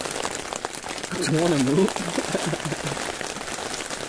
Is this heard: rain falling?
yes